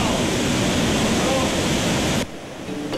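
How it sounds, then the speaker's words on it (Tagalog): Fresh spring water pouring from a small cave and spilling over large boulders in a river canyon, a loud steady rushing wash that cuts off abruptly to a quieter background near the end. "tubig ng ilog ng Matutinaw ay nagmumula sa kabukalan o source ng fresh water na umaagos mula sa isang maliit na kuweba at umaapaw sa mga malalaking bato"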